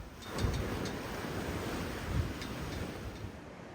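Sea waves breaking on the shore at Cromer, a steady wash of surf with wind noise on the microphone, two slightly stronger surges rolling in over a few seconds, no voices.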